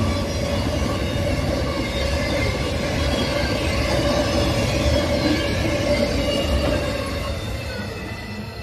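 Canadian Pacific freight train hauling 53-foot containers passes with a steady heavy rumble of wheels and a faint ringing squeal, fading slightly at the end, no talk.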